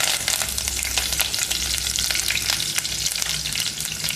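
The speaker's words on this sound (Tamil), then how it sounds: "இப்போ இந்த பிரியாணி இலையை போட்டுக்கலாம். கருவேப்பிலை போட்டுக்கலாம்." Bay leaf and curry leaves dropped into hot oil, a loud, busy crackling sizzle with frequent spattering pops and stirring throughout.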